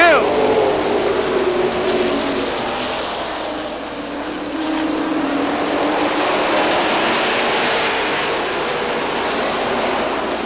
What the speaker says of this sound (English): A very quick start for Manny Dias in the 18 automobile.